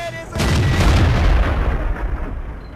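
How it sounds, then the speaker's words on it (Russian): Dicker Max tank gun firing a single heavy shot at a group of tanks in a video game, a loud booming blast followed by a long rumbling decay. "Вот решил от жадности выстрелить в кучу танков и не попал ни в кого."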